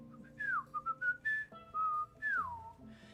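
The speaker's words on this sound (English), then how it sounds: "I learned how to do a really, really loud whistle without my hands" A person whistles without using their hands in a series of clear, pitched notes: short chirps, sustained tones and downward slides, fairly loud and close, with no talking.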